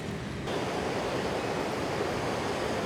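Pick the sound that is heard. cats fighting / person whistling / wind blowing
wind blowing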